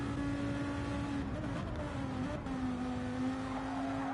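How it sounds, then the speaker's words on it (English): A V10 race car engine warbles at sustained high revs, a continuous, steady drone with slight pitch wavers, heard alone without talk. "Nice V10 warble."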